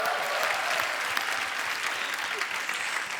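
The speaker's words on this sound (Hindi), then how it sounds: "जोरदार तालियां हो जाए एक बार" A studio audience at a Hindi TV comedy show, The Kapil Sharma Show, gives loud, dense applause that holds steady throughout, with a faint murmur of voices underneath.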